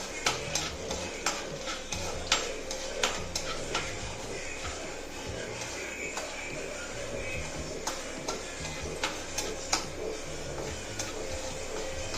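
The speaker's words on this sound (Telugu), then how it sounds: "మినపగుళ్ళు 1/2 స్పూను, శనగపప్పు, వేసుకొని బాగా వేపుకుందాం." Urad dal and chana dal frying in a pan for a curd chutney, a steady close sizzle with repeated light ticks and scrapes of stirring running throughout, no talk.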